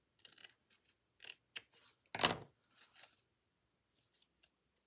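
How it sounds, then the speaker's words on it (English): Scissors snip through card for a card-making craft, a few soft cuts followed by one loud, close crunching snip and a couple of lighter trailing snips, with quiet pauses between. "Let me just snip this just a tiny, tiny bit."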